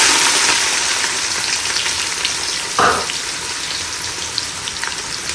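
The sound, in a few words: frying onion and scotch bonnet pepper in vegetable oil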